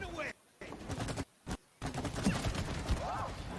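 Explosions and gunfire-like bursts during the Wasp Queen boss fight in the video game It Takes Two, dense and loud with brief silent gaps between blasts, a voice faintly audible underneath.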